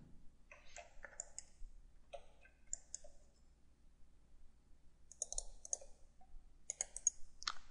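A computer mouse clicks in short clustered bursts while drafting in CAD modeling software, crisp and close over near silence, with pauses between groups of two or three clicks.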